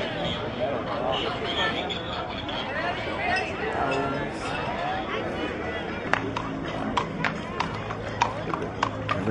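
A herd of cattle walks down a city street during a cattle drive in Fort Worth, Texas, with a dense shuffling clatter of hooves under crowd chatter, sharper distinct hoof knocks standing out near the end.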